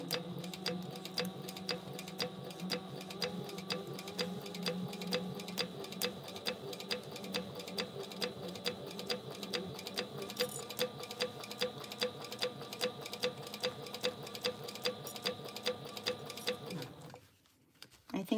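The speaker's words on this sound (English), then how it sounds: "So I'm gonna backstitch a little bit." A sewing machine backstitches the seam of a zippered fabric pouch, its needle running in a fast, steady rhythm for about seventeen seconds before stopping, loud and close.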